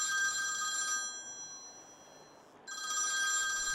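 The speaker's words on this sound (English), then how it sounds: "I hear him on the phone to you sometimes" A telephone rings with a bright electronic trill, two bursts separated by a short pause, fairly clear against a quiet room with no one speaking.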